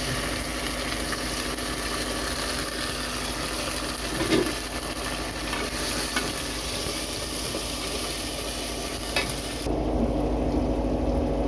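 Ginger-garlic paste sizzles and fries in a hot pan, a steady broadband hiss with faint stirring scrapes, continuing evenly with a slight shift in tone near the end.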